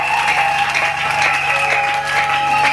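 A congregation at a religious wedding ceremony applauds steadily, dense continuous clapping with a sustained tone and faint voices underneath.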